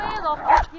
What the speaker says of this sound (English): So your dog's attacked us, and you're going to play the victim.